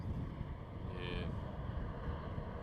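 Strong wind buffeting at an airport runway at night, a dense low rumbling roar with gusty fluctuations close to the microphone and a brief higher tonal whine partway through.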